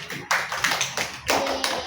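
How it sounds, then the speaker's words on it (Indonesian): Pupils in a practice micro-teaching class clap for themselves at the end of a lesson: a short burst of close, crisp, rhythmic hand claps over about two seconds. "kita beri tepuk tangan terlebih dahulu kepada diri kita"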